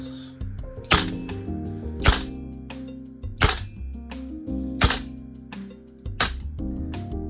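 A VFC HK416C airsoft rifle fires single shots, sharp clicky snaps spaced about a second apart, six in a row, over a steady tonal hum in the background.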